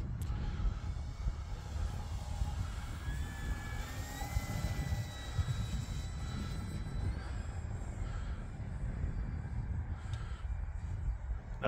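An E-flite Cirrus SR22T RC model airplane performs a half-throttle roll on a breezy winter day, its motor whine rising and falling in pitch at a moderate distance over steady wind noise, with crows cawing nearby.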